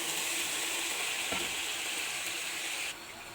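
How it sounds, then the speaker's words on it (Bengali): Hot milk hits fried spice masala in a pan, bursting into a loud, steady sizzle and hiss that drops off sharply near the end. "এই পর্যায়ে আমার আগে থেকে গরম করা গরম দুধ দিয়ে দিব।"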